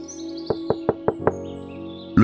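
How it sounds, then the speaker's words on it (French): Five soft, evenly spaced knocks on a door, set over a sustained musical drone in a spooky story, followed by a sharper sound at the end. "frappa doucement à la porte."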